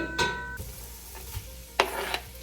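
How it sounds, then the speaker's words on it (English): Half an onion drops into hot olive oil and garlic oil in a soup pot, giving a brief sizzle burst with utensil clinks, then a second burst of frying. "All right, then this other half of the onion goes in."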